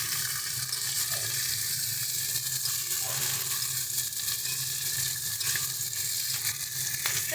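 Green beans fry in a hot pan for a vegetarian bean recipe, giving a continuous close sizzle with occasional stirring scrapes and no voices.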